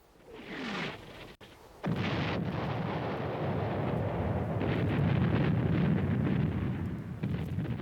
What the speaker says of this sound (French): Le bombardement d'artillerie du 21 février 1916 est le plus important de toute l'histoire militaire.